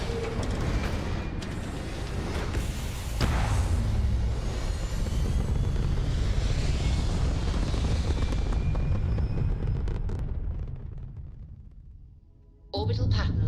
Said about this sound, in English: Liftoff looks good. All systems nominal.